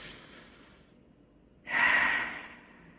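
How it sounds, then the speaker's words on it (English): One deep breath drawn in close to the microphone, a soft airy inhale that swells after a brief quiet pause and then slowly fades. "take a deep breath with me"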